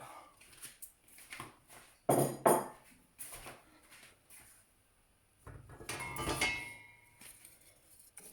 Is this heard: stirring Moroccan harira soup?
yes